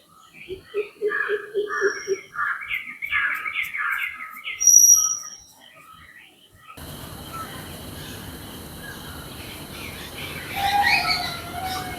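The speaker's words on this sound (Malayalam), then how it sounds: "ഭയങ്കര കിളികളെ സൗണ്ട്" Birds chirp and tweet in quick repeated morning calls, bright and fairly close, with a brief gap before softer chirping continues over a low background hum.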